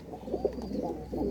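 Domestic pigeons in a loft coo softly nearby, a few low rounded throaty calls rising and falling in quick succession over a faint background.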